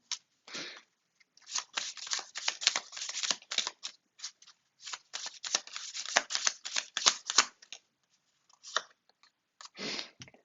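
Tarot cards are shuffled for a card reading in quick bursts of crisp riffling and flicking, close and fairly quiet, separated by short pauses, with no talk.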